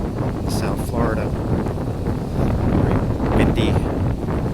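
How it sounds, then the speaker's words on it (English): Strong wind on a South Florida beach buffets the microphone in a constant roaring rush, loud and close, while a voice talks over it. "Very windy here on the beach."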